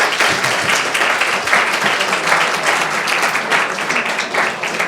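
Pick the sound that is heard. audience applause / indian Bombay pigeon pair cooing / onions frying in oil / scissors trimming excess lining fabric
audience applause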